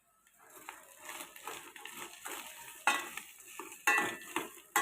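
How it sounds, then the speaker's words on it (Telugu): Diced potato, carrot and beans hit a pan over medium flame with sizzling and repeated scraping stirs, a series of close, uneven spoon strokes over a soft fry, no voices. "ఇప్పుడు బంగాళదుంప, క్యారెట్ అండ్ బీన్స్ వేస్తున్నాను"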